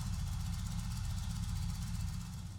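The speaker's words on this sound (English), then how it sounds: "start the engine and allow it to reach operating temperature" An Indian Motorcycle 111/116 engine idles with a steady low rumble, close and constant, with a faint hiss above it and no voices.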